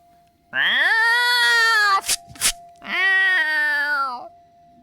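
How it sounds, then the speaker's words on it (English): A cat yowls close and loud in two long drawn-out wails, separated by a short burst of rustling noise, each call rising and holding before breaking off. "you wake with a start to hear Cat Stony yowling."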